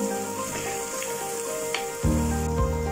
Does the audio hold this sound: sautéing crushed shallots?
yes